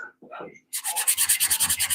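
Hand sanding on wood in a workshop: brisk, rhythmic back-and-forth rasping strokes, close and steady, after a few brief softer scrapes.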